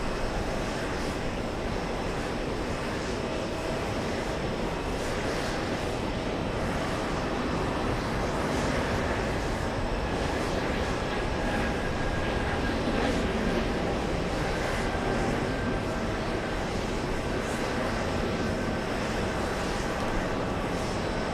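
A Cathay Pacific Boeing 777 arriving at JFK airport produces a continuous jet engine roar at moderate distance, a broad steady rumble with slight swells and no talking.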